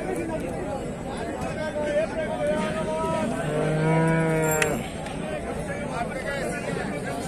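A cow at a busy rural cattle market lets out one long, loud, drawn-out moo midway, with crowd chatter and market noise all around.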